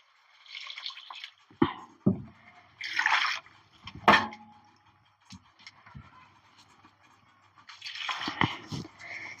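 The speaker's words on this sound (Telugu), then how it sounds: "ఇగో నీళ్ళు పోస్తున్నా." Water poured from a small vessel into a cooking pot while making a ridge gourd masala curry, heard as several short splashing bursts with gaps between them, close and moderately loud, with no talking.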